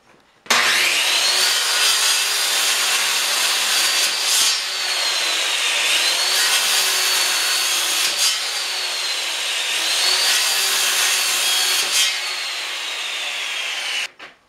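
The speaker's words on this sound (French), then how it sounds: "je vais faire des coupes dans ça pour le plaisir et on va voir comment est-ce que les scies se comportent" A corded circular saw rips through firewood in several long continuous cuts, a loud, close, steady whine that dips briefly between passes, with no talking.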